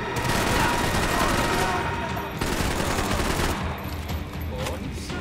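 Gunfire empties a full magazine in a shooting video game, a dense rapid fusillade of shots rattling continuously for several seconds, loud and close, with a brief gap midway and scattered shots trailing off at the end.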